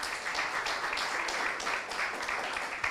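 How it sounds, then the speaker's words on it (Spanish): Applause during a church service, a congregation clapping steadily together, a dense, even wash of hand claps at moderate loudness with no talking. "¿Cuánto le dan un aplauso al Señor?"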